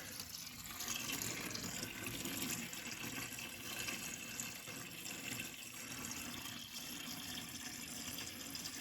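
Water running steadily from a tap while rinsing out a 58-year-old fuel tank, a continuous even gush and splash close by with no talking.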